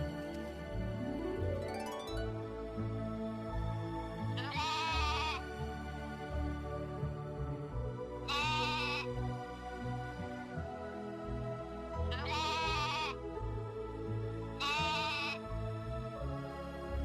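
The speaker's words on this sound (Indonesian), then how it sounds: "terdengar sayup-sayup suara domba yang cukup jauh" Sheep bleat in four separate, drawn-out calls spaced a few seconds apart, heard alone over a low background of steady sound.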